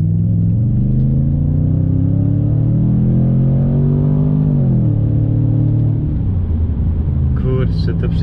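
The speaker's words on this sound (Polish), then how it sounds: "Kurczę, to przyspieszenie, to w ogóle ten dźwięk V8-ki." A V8-engined car, rated at 340 horsepower, accelerates hard with a loud, close, deep rumbling roar that climbs in pitch, eases briefly, then carries on droning.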